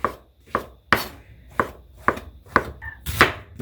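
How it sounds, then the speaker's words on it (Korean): A knife chops thinly sliced king oyster mushrooms on a cutting board in a home kitchen. About eight crisp, evenly spaced chops ring out close by with nobody talking. "남은 새송이 버섯도 이렇게 얇게 얇게 이렇게 좀 이렇게 썰어주고"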